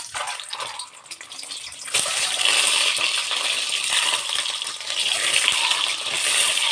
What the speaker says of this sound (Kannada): ಈಗ ಎಣ್ಣೆ ಕಾದಿದೆ. ಈಗ ಮೊಟ್ಟೆನ ಹಾಕ್ಕೊತಾ ಇದ್ದೀನಿ.